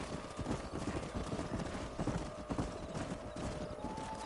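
Steady clip-clop of horse hooves at a trotting pace in the video game Red Dead Redemption, fairly close, with a faint outdoor background and no talking.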